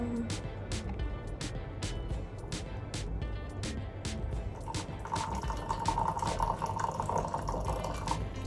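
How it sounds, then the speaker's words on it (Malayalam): Boiling water poured from a kettle into a cup for ginger tea, heard as a close, continuous trickling pour that grows fuller as the cup fills. "ഈ തിളച്ച വെള്ളം നമുക്ക് കപ്പിലോട്ട് ഒഴിച്ച് കൊടുക്കാം."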